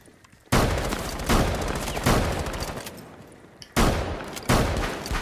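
Shotgun blasts in a tactical shooter match, a handful of loud booming shots spaced about a second apart, each followed by a long reverberant tail, with no talking.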